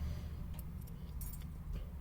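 Keys jangle on a keyring with a keychain multi-tool attached, a run of quick, close metallic jingles and clinks over a steady low hum.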